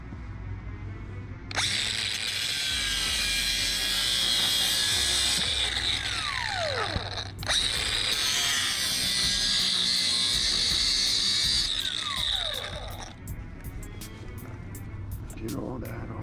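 A power tool cuts steel off aluminum scrap with a loud, high-pitched grinding whine in two long bursts. The pitch dips briefly between them, and short clicks and a voice follow at the end.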